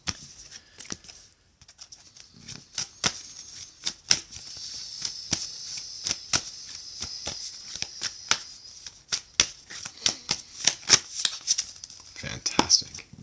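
A tarot deck is shuffled and cut up close, with crisp riffling clicks and flutters coming in irregular bursts that grow busier toward the end.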